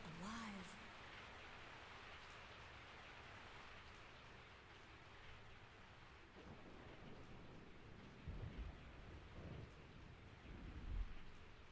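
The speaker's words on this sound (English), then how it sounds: "I woke up to the sound of falling rain." Steady rain falls in Resident Evil 3: Nemesis on PS1, a continuous wash of noise with low rumbles like distant thunder swelling toward the end.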